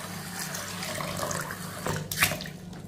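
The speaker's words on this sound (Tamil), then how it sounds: "இப்போ இதில் தண்ணி ஊற்றிக்கிடுவோம்." Water pours steadily into a bowl of washed mung beans as a continuous close splashing rush for a few seconds, with no voices.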